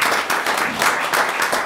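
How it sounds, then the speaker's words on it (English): Steady applause at a school board meeting, a dense continuous wash of many hands clapping with slight swells, fairly loud and without talk over it. "I would like my colleagues to join in giving him another applause"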